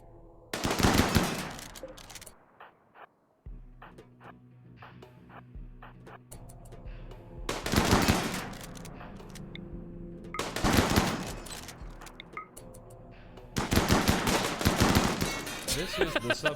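Automatic gunfire rattles through a video game in several sharp bursts separated by quieter stretches of low game ambience, the later volleys dense and rapid.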